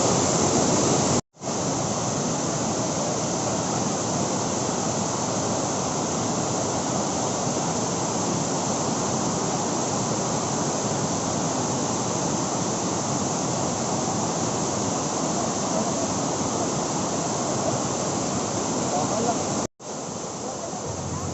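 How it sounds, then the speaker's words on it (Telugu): Loud, constant roar of Tirathgarh Waterfalls near Jagdalpur, a dense wash of falling water that stays even, broken only by two brief cuts. "క్లియరెస్ట్ వాటర్ ఫాల్ దగ్గర ఉన్నాం"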